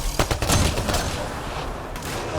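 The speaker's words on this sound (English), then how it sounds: "they're shooting at me, so I'm going to return fire" Sustained bursts of gunfire from outcast raiders in the video game Mass Effect Andromeda, loud overlapping shots rattling continuously for a few seconds with no talk over them.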